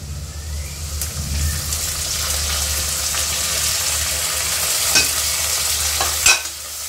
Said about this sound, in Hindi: इसे मैं अच्छे से भून लूंगी ऑयल में।